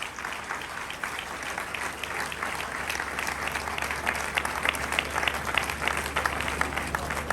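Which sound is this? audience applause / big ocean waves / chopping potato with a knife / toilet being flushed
audience applause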